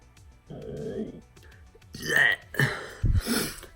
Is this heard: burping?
yes